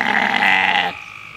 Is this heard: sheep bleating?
yes